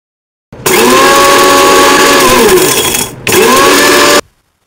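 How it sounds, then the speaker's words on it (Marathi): Mixer grinder grinding whole spices, including coriander seeds, a bay leaf and star anise, into a powder; a loud, close whirring motor starts abruptly, runs about two and a half seconds, stops briefly and runs again before cutting off. "मिक्सरमधून वाटून घेऊया."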